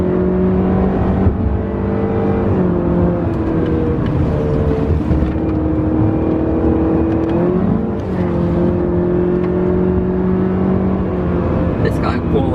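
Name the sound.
Honda Civic accelerating hard with traction control off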